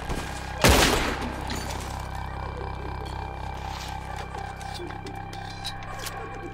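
Gunfire in Red Dead Redemption 2 as characters shoot at ropes: one loud close shot stands out, then a steady hail of lighter shooting and battle noise continues throughout.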